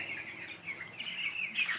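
Chicks and hens in a poultry shed cluck and peep in a busy, overlapping chorus, moderately close and steady with no talk.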